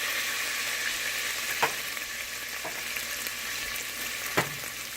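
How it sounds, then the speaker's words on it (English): Garlic fries in oil in a pot for Zuppa Toscana, giving a dense, even sizzle that runs the whole time, with a couple of soft knocks from stirring. "so I'm just going to add the garlic"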